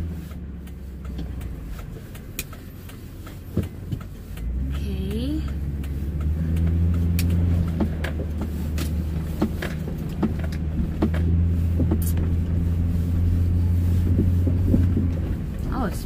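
A truck rumbles along a rough, bumpy Arctic road, steady engine drone rising as it gets under way, with rattles and jolts popping out over wind noise.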